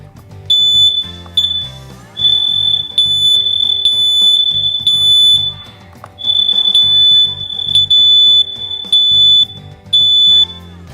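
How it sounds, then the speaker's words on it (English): Interconnected household smoke alarms shriek during a test, a loud piercing high tone repeating in rapid bursts with short gaps, the pattern continuing throughout. "All of the smoke alarms in this house are interconnected, so when one goes off, the others will go off as well."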